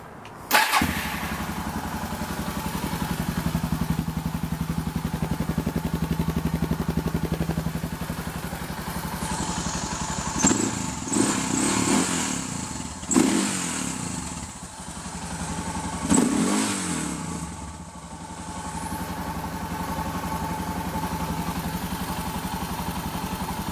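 A Suzuki DR650 motorcycle fitted with a GSXR midpipe starts and runs at a steady idle, with several sharp throttle blips partway through before settling back to idle; no one talks.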